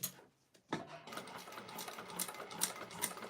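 A sewing machine sews lightweight fabric for a clutch wallet. Bursts of rapid, rattling stitching start after a short quiet gap and continue at a brisk uneven pace, fairly faint and close.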